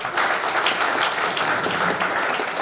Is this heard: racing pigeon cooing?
no